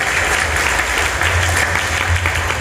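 A crowd of young people at an evening Ramadan festival gives a round of brisk applause, many hands clapping in a dense, sustained burst that stays loud throughout, with no clear talk.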